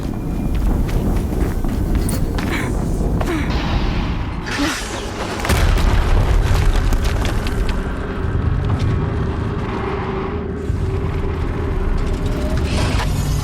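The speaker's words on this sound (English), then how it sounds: "Another explosion." Explosions and combat in the video game Horizon Zero Dawn, a dense, loud, continuous roar of booms and crashes with a heavier blast partway through, layered with game effects.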